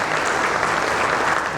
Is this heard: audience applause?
yes